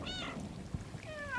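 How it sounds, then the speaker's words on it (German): Two short meows from the cat in the video game Stray, one at the start and one near the end, heard up close over a low, steady background hum. "Wir können miauen."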